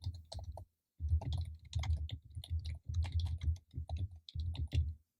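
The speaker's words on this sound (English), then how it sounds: "So I'm going to type in" Fingers type quickly on a computer keyboard nearby, producing dense runs of key clicks broken by short pauses.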